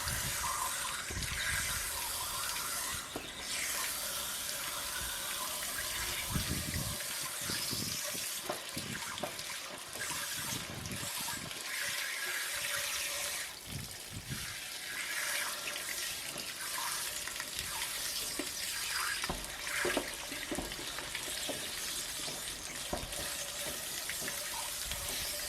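Steady rushing water pours from the drain of an RV water heater being flushed, a continuous splashing stream with occasional louder gushes and no talking.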